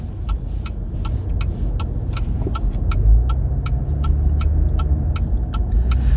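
A Cadillac ATS-V crawling through traffic at low speed in third gear, a steady close engine rumble with road noise and a regular ticking pulse running throughout.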